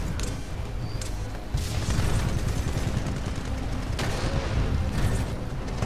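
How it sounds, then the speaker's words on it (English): Dense, continuous gunfire and booming blasts from the video game Titanfall 2 fill the mix at a constant loud level, with a few sharper bursts and no clear talk. "Alright, I'm shooting him."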